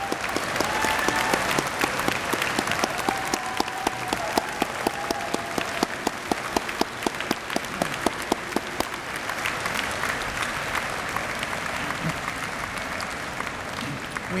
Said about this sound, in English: so our graduates can applaud you for your love and support over these years